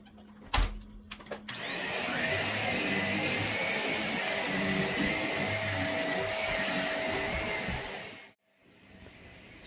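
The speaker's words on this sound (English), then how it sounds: "the vacuum will grab whatever falls on the floor." A household vacuum cleaner runs in a steady, loud drone during floor cleaning, with a few bumps as it starts and a brief cutoff near the end before resuming.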